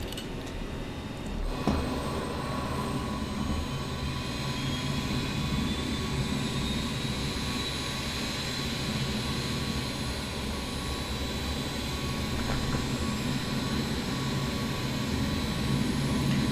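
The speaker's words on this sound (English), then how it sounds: "starting engine 2" Engine 2 of a Jumbo jet spooling up in a flight simulator game at Stuttgart, a steady, loud broadband roar and whine that holds level and continuous throughout, with no talk over it.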